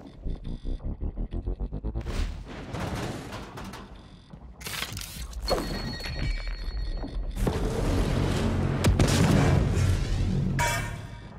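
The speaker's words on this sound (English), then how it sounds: "I'm gonna get my stuff out of these recycling grenades." Recycler grenades detonate in the video game Prey, a series of deep booming blasts with rumbling, throbbing low end that builds and sustains loudly, with sharp bursts breaking through near the end.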